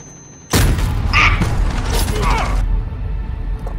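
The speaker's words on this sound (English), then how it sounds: "Flashbang." A flashbang grenade goes off in Call of Duty: Modern Warfare: a sudden loud broadband blast, then a hissing, ringing wash for about two seconds before it settles back into background game noise.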